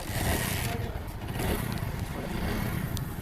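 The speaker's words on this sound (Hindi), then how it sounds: "तो देखिए हमने बाइक को स्टार्ट कर दिया है" A Hero Splendor motorcycle with a worn clutch plate runs close by, its engine giving off a harsh, noisy chatter with scraping and clattering over a steady rumble.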